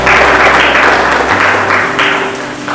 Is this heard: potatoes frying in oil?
no